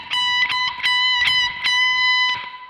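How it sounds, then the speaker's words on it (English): One bar of triplet picking with string bends on guitar from a song, a steady run of bright plucked notes in two groups of three, ringing over one another with no talk. "So one bar would sound like this."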